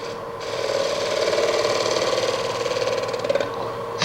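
Wood lathe turning the outside of a birch root burl bowl, a continuous whirring, scraping tone of tool on spinning wood with a rhythmic ratcheting texture, close and steady, no talking.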